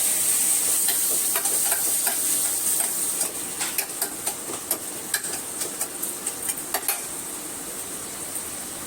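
Masala with tomato and salt frying in a pan, a steady close sizzle with a run of regular light scraping and clinking stirs growing more frequent.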